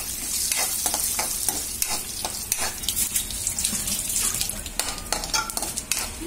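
Mustard seeds, cumin, urad dal and chana dal fry in hot oil as a tempering for semiya upma, giving a steady close sizzle dotted with sharp popping crackles throughout, with no talking.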